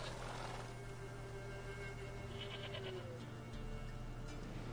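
A goat bleats in The Witcher 3: Wild Hunt, a few faint wavering calls set against a steady low hum and ambient game background noise.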